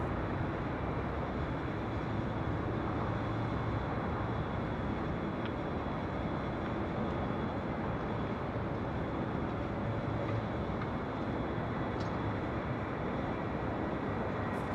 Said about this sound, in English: Rolling on down 24 left, that is Delta Airlines flight 2522 heading to SFO on that A319.